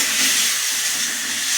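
Tomatoes cook with salt in a hot pan, giving off a loud, steady steam-like hiss that stays even throughout the short stretch.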